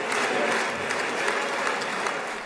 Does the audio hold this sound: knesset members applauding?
yes